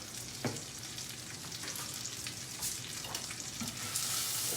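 A rack of lamb sears in a hot pan with a steady, crackling sizzle and scattered sharp pops, heard alone without talk.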